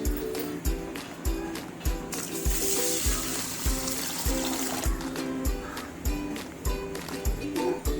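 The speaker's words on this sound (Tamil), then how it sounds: "வரகரிசியில் நிறைய அழுக்கு வரும். நல்லா கழுவி எடுங்க. 2-3 தடவை வாஷ் பண்ணணும்." Kodo millet (varagu) rinsed in water by hand, steady rhythmic sloshing and swishing with a faint trickle, close and moderately quiet.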